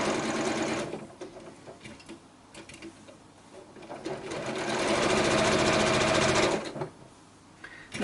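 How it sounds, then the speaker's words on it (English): A sewing machine stitches fabric for a scrappy pointed-arrows quilt block in short bursts at first, then in a longer, louder steady run before it stops. "and I can sew"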